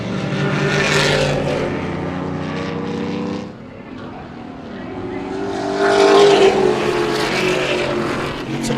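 Race cars roar down the straight in a circuit race, engine noise building and fading as cars pass, loud and close, with a commentator talking over it.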